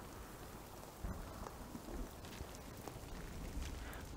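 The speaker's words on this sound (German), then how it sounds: "Der Sturm kommt." Steady rain and rolling thunder from an approaching storm in the video game The Cycle: Frontier, a continuous dense wash with a few louder low rumbles partway through, no voices.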